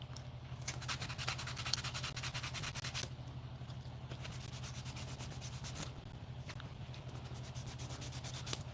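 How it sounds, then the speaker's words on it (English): Steady, soft rubbing and scraping of a soft sponge sanding block on parchment paper continues throughout, with brief pauses, over a low constant hum. "sanding block is what it is. It's very soft."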